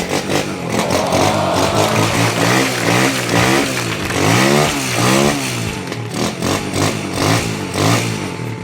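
A TMX 155 motorcycle engine fitted with a Barako 175 carburetor revs loudly up and down several times, close by, its throttle swells rising and falling over a rough idle.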